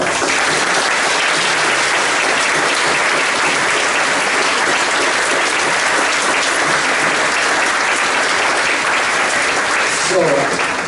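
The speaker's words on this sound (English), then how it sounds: "huge round of applause" A church gathering applauds a pastor at his 35th anniversary open house, with loud, dense, continuous clapping sustained evenly for several seconds and faint voices mixed in near the end.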